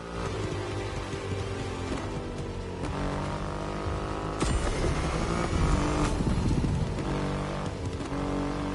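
A Triumph Rocket 3 motorcycle with a 2.5-litre engine roars in the racing game The Crew Motorfest, a loud, continuous engine drone that rises and falls with revving and gear shifts and has no talk over it.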